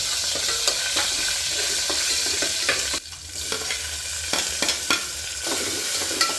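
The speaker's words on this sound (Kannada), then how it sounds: "ನೋಡಿ ಒಗ್ಗರಣೆ ಗಿರ್ರ ಅಂತ" Tempering (oggarane) crackling and sizzling in hot oil in a home kitchen, a steady close sizzle with scattered sharp pops and spatters throughout, briefly dipping midway before resuming.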